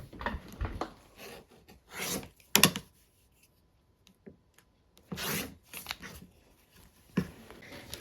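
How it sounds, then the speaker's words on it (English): Scissors slice through quilting fabric or paper along a marked line, producing soft crisp snips in short bursts separated by quiet pauses, close and fairly faint. "Okay, we're gonna just cut these apart. We're gonna cut on that line."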